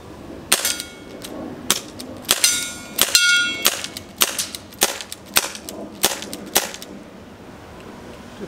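An airsoft Desert Eagle CO2 gas blowback pistol fires about a dozen sharp, close cracks at an uneven pace, each with a metallic slide clack, stopping near the end.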